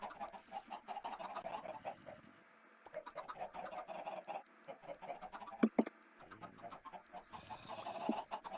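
Chickens cluck and squawk in a video game, with steady, busy fowl calls throughout and a few sharper clicks near the middle.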